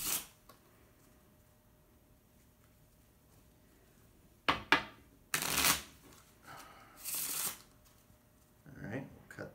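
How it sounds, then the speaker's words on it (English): A deck of playing cards is shuffled in three or four quick riffling bursts, close and crisp, with brief quiet gaps between them. "Let's shuffle it again and try again"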